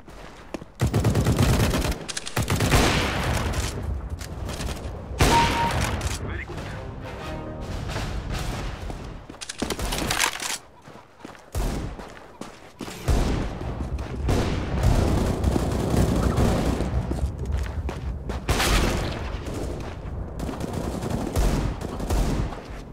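Dense, loud gunfire from the video game Counter-Strike: Global Offensive, with bursts of rifle and automatic fire almost nonstop and only brief lulls.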